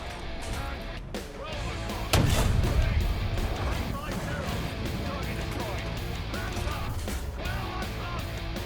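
One deep cannon shot from a Churchill tank in Trailmakers thumps loudly amid a steady engine drone, with a person talking over the rumble before and after.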